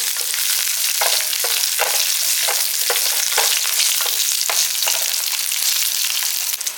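Chutney ingredients sauté in a hot pan with a steady, loud sizzle, broken by regular scraping stirs, with no voices.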